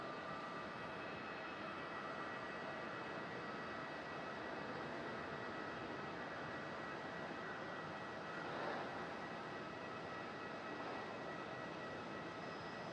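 An airliner taking off from runway 27 at Melbourne Airport, heard as a steady, distant broadband roar of jet engines that swells slightly midway, with no talk.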